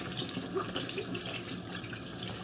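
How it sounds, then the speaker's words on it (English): Hot tap water runs steadily as leftover dyeing glue is rinsed off a disc golf disc, a quiet continuous splashing stream with no talk. "with hot water, we're just going to wash any remaining glue"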